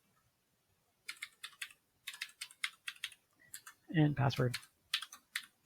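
Computer keyboard typing in quick bursts of close, crisp key clicks, broken by a short spoken phrase partway through.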